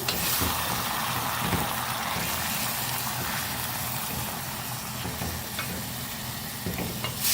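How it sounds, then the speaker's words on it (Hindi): Mash daal with cumin and spices is roasted in a pan, producing a continuous, loud, close sizzle with soft stirring scrapes throughout. "अब हम भूनेंगे मसाले के साथ, अच्छी तरह से मिक्स करेंगे।"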